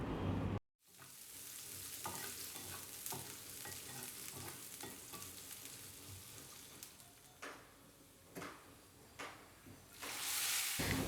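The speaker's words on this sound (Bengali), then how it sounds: "এখন আমার পেঁয়াজ আর রসুনটা গোল্ডেন ব্রাউন করে ভাজা হয়ে গিয়েছে" Onion and garlic sizzle steadily in hot oil for a dal tempering, a continuous close frying hiss broken by stirring scrapes and a few louder spoon or pan knocks toward the end.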